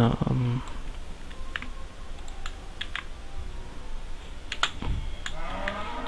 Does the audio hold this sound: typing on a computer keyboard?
yes